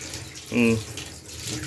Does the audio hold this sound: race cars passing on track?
no